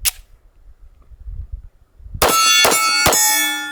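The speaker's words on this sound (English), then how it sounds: "When the 230 grain 45 ACP hits steel, you really know it." After a quiet moment, 230-grain .45 ACP bullets strike a steel target three times in quick succession, each hit a sharp, loud metallic clang whose bright ring lingers after the last strike.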